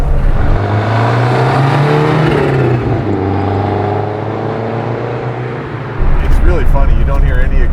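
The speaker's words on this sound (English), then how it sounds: "Pure sound of the wastegate." Turbocharged engine of a 1989 Lancia Delta Integrale 16V rally car, close and loud, a steady throaty hum with a rising note and a sharp burst near the end, with voices talking over it.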